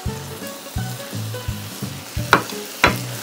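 Fried eggplant stirred into crispy pork binagoongan in a pan, with a steady oily sizzle under a run of regular scraping stir strokes and a couple of sharper clanks near the end, close and without talk.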